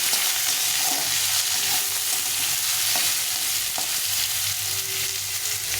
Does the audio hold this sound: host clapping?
no